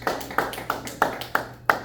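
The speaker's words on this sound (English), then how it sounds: "I want you to give yourselves a round of applause for your participation." A small group at a senior wellness festival claps in six sparse, distinct beats, close and fairly loud, with no crowd roar.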